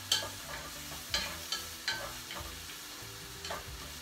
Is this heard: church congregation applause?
no